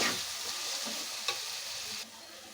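Tomato pieces for a gongura dried prawn curry simmer and sizzle in a pan after salt goes in, a soft, even crackle with one small knock of the spoon, quiet and close.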